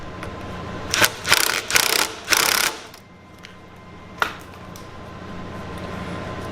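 Tightening sprocket carrier bolts on a homemade go-kart built from a mower, heard as several short bursts of ratchet clicking close by, then a single sharp clack and quiet shop background.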